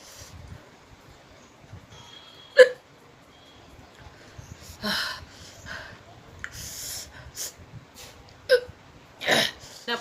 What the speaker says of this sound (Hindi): 3 हिचकी आई है मुझे